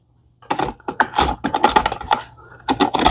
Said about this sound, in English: I'm going to have to just chop it up on the cutting board